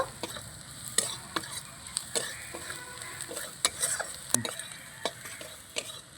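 Ground spices, including coriander powder, are stirred into a frying pan with a spoon, giving a quiet ongoing sizzle and repeated light scraping taps close by, with no one speaking.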